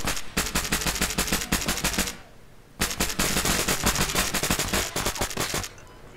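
Gunfire in a video game drug and human trafficking den raid: two long bursts of rapid automatic shots, loud and close, split by a short lull and trailing off at the end.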